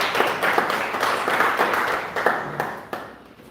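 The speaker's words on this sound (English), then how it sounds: "So thanks for clapping for them" Audience clapping at a school and college speech contest, a scattered, moderately close patter of hands that fades toward the end.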